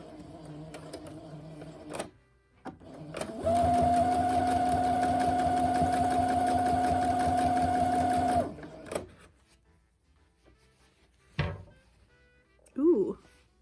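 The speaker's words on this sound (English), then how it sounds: "So now you basically just sew starting here all the way around and there" A sewing machine runs steadily for about five seconds, stitching around the edge of a homemade tailor's ham, with a high motor whine over rapid needle clatter. Quiet handling noises come before and after it, and a short voice is heard near the end.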